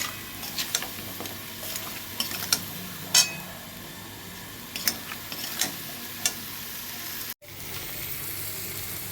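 Spices with sugar and salt are stir-fried in a pan with a little water, giving a low steady sizzle. Scattered light ticks and scrapes from stirring sound close by, and a brief cut comes near the end.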